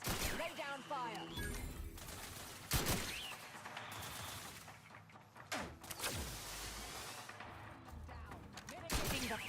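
Bursts of video game gunfire crackle in rapid volleys, several loud sharp clusters spread across the scene with mechanical clatter and an electronic voice speaking between them.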